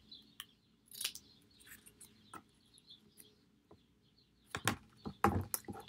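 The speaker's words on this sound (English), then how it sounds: "I'm going to cut down a few of these windows." Scissors cutting paper windows for a collage make quiet, scattered snips and crisp paper rustles in an irregular rhythm, growing a bit louder and busier toward the end.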